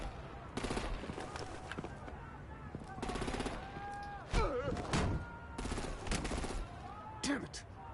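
Bursts of heavy automatic gunfire in the video game Batman: The Enemy Within, loud rattling volleys repeating every second or so, mixed with shouted voices and crashing effects.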